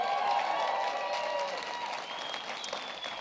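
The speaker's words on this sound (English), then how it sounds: "Give her a big round of applause." A conference crowd applauds a speaker being introduced on stage, steady clapping with a few light cheers under lingering tonal music that fades across the few seconds.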